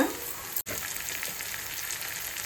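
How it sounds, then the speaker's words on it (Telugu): Onions frying in a pan until brown for a mutton potato curry, a continuous close hiss of sizzling oil with a brief dropout partway, no voices. "ఇది కొంచెం బ్రౌన్ కలర్ వచ్చేదాకా ఫ్రై చేసుకుందాం"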